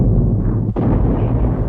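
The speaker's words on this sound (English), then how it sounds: "Gun after gun joined in" A First World War artillery bombardment on the French lines, heavy guns firing onto the trenches and the roads behind them, heard as a dense, continuous low rumble with one sharp report cutting through partway.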